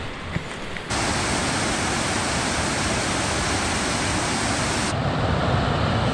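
Loud, steady rushing of water falling into a rock pool in the Georgia backwoods, a dense broadband roar that starts abruptly and holds evenly, close by.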